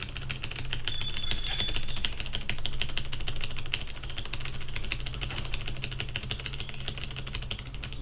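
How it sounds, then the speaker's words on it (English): Steady keyboard typing picked up by an SF 910 budget microphone, rapid clicking keystrokes over a constant low hum of background noise, continuing throughout. "As well as when I'm typing on a keyboard."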